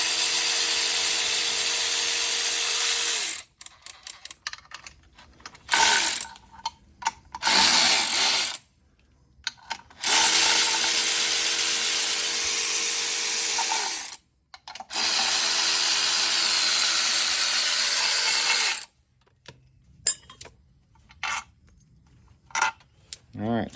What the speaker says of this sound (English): Terry's taking out the last couple bolts to separate the transmission from the engine